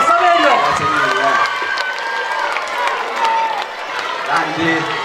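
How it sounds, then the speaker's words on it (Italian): A crowd at the opening evening of a youth football tournament in Scalea cheers and shouts loudly. Excited voices and children's shouts mix into a sustained roar, with some clapping. "Un forte applauso al nostro Saverio!"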